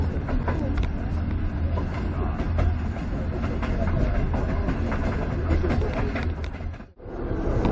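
A train rumbles at Pyongyang railway station in North Korea, a loud, continuous low roar with rattling and clatter throughout and a brief dip near the end.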